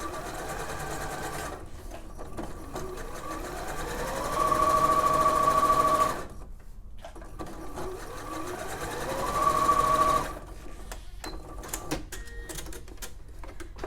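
A sewing machine stitches through layers of dress fabric, interfacing, facing and seam allowance. It runs in a steady whirring drone with two louder, faster bursts, pausing for the slower careful passes around a curve.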